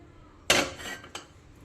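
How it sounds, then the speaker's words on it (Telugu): A metal cooking pot set down on a stove for chicken egg curry gives a sharp clattering clank, then a smaller knock about half a second later, close and loud in a quiet kitchen. "ఇప్పుడు కర్రీ చేయడానికి గిన్నె పెట్టుకున్నా."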